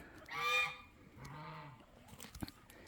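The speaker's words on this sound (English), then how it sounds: "She is a beautiful chicken." Backyard chicken on a cold morning giving a couple of honking, throaty clucks, fairly faint, with quiet rustling and small knocks around it.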